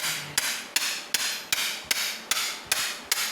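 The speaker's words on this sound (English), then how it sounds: "we're going to have to spike the filter all the way through without coming out and hitting something the other side" A screwdriver is hammered through a motorcycle oil filter on a Triumph Tiger during servicing: eight sharp, evenly spaced metallic hammer strikes, close and clear, with no talking.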